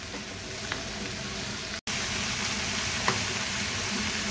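Sweet corn sizzles and fries in a pan over a high gas flame while being mixed, a steady soft crackle with a few faint clinks of stirring.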